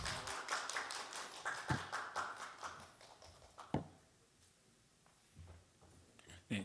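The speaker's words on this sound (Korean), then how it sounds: "박수 쳐주세요." Scattered, fairly faint applause from a church youth group at a Sunday worship service during a scholarship presentation, with irregular hand claps that fade out midway and a few isolated taps afterward.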